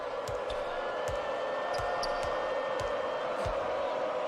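A basketball video game arena crowd roars in a constant dense wash of cheering, with a ball bouncing rhythmically on the court and shoe squeaks cutting through the din.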